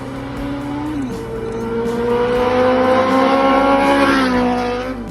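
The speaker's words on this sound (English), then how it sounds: "I'll take it for a quick test ride here, and this is its very first ride once it came out of the shed." A custom-built chopper motorcycle on its very first test ride, its engine note droning steadily and rising as it accelerates, loud and close with no talking.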